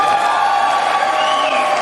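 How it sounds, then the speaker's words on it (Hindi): An audience at a World Dance Day cultural performance cheers and claps in a dense, steady wash of crowd noise that stays loud and even throughout the short moment. "इनकी तालियां बताइए"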